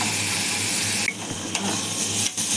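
Onion and tomato stir-frying in a pan, a dense continuous sizzle with a few sharp clinks and scrapes of a utensil against the pan, no voices.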